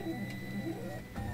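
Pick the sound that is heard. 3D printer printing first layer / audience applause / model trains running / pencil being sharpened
3D printer printing first layer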